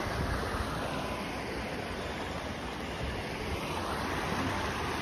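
Cold river water rushes steadily at Kainchi Dham, a broad, constant roar of flowing water filling the scene with even loudness throughout, close by and with no voices over it.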